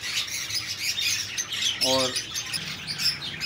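High-flyer game pigeons in a loft in Karachi, Pakistan, give a brief harmonic call amid a busy, noisy background; a voice is heard briefly.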